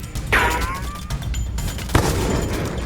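A shooting video game lets off two sharp, loud shots about one and a half seconds apart, the first followed by a ringing tail, over a low background rumble.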